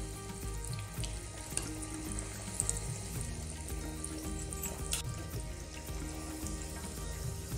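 Elephant foot yam (chena) cutlets fry in a pan over a medium flame, giving a steady, close sizzle with a soft, watery crackle that runs evenly throughout and no talking over it.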